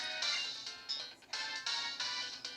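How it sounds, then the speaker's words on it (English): In Pokemon Black, a phone receiver rings with a repeating electronic chime in regular bursts, bright and steady with no voices. "the extra receiver is ringing, so we go ahead and pick it up"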